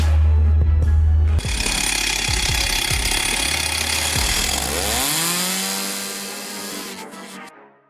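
Homemade chainsaw machine cutting firewood: a loud, continuous saw engine roars and snarls through the cut, with bursts of revving, then winds down and fades near the end.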